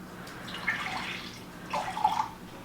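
Water runs from a kitchen tap in two short bursts, a soft splashing trickle, moderately near, while cracklin cornbread batter is being made.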